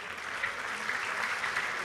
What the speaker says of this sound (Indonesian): Tepuk tangan ada Menteri Ketenagakerjaan Bu Ida Fauzia ini.